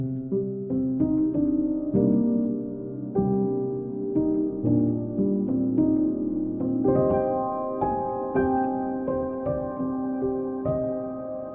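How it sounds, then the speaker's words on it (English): Soft, muffled upright piano prepared with four layers of felt, notes with dulled attacks and barely audible pitch, playing a gentle melody with sustained chords, alone and fairly close. "an upright piano that we prepared with 4 layers of felt"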